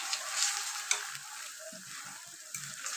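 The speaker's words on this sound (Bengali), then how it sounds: "কাঁচা লঙ্কা কুচি এইভাবে করে ভেজে নিচ্ছি।" Chopped green chillies with onion and garlic frying in a pan, a steady close hiss of sizzling oil broken by light stirring scrapes.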